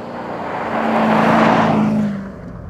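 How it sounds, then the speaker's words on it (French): A Ferrari-sourced 4.7-litre V8 with a custom exhaust line pulls away, its engine note swelling to a loud roar and then easing off as the car moves on. "voilà une ligne d'échappement un peu particulière qui va faire une jolie sonorité"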